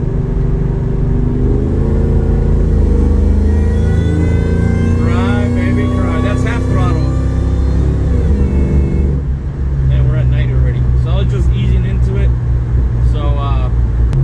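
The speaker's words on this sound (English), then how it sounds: "let's hear that supercharge again. Who doesn't like to hear a supercharger cry?" A Ford SVT Lightning pickup revs with its supercharger whining, heard as a loud engine drone with rising and falling whine tones, and talk runs over it throughout.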